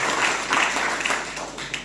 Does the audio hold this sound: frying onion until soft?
no